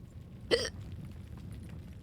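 A single sharp hiccup bursts out once, loud and close, against a steady low background hum, with no talking.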